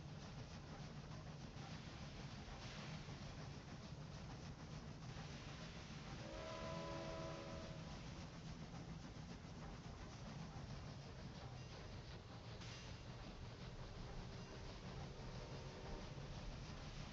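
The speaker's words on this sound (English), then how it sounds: "what we hear is really the cargo trains" Cargo trains in the railway simulation game Railway Empire 2 rumble along steadily throughout, a continuous loud rolling drone, with a brief whistle-like tone partway through and no talking.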